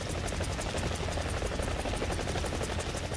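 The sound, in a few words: helicopter in War Thunder video game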